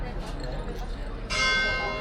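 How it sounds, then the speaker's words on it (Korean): Bright bells ring out suddenly partway through, loud and sustained with shimmering overtones, over a background hum while someone talks. "또 커피 마시자마자 아주 천사들의 종소리가 들리는군요"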